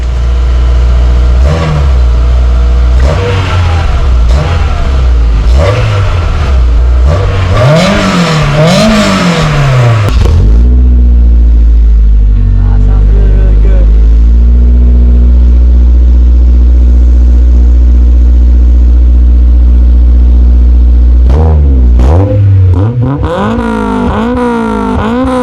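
Honda S2000 engine fitted with an HKS exhaust, revving hard in repeated rising and falling bursts, then settling to a loud, steady idle before revving again, close and alone.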